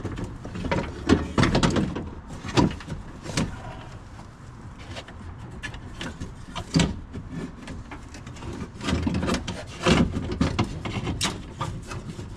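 A window regulator assembly with its motor is worked out through the door opening of a 2002-2006 GM truck such as a Silverado or Tahoe, making close, irregular plastic and metal clunks, scrapes and rattles in uneven bursts.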